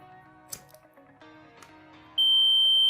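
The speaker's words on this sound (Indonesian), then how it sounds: "jika api terdeteksi, maka buzzer dan lampu LED menyala" A smart-home IoT flame and smoke detector's buzzer cuts in abruptly partway through and holds a loud, steady high-pitched electronic tone, after faint clicks and handling noises.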